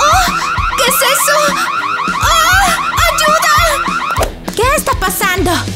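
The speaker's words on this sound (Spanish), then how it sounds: "¿Por qué reaccionó la alarma?" An electronic alarm blares loudly in a warbling, siren-like pattern with rapidly repeating tone sweeps, while people talk and exclaim over it and it cuts out briefly near the end.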